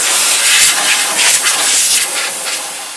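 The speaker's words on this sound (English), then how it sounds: "just blow some compressed air on top of the gearbox to get rid of any dust or anything kicking around" Compressed air blasts over the top of a Ford Mondeo Powershift gearbox, a steady close, loud hiss that holds for about three seconds with slight surges and no talking.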